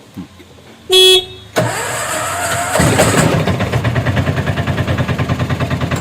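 An auto rickshaw's diesel engine is started: a short horn blast, then the starter cranks and the engine catches, settling into a loud, close, rhythmic diesel chug.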